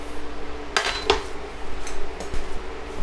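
A metal pan used earlier for cooking shrimp clanks and scrapes in a few sharp knocks as a tablespoon of oil goes in, with faint background hum and no talking.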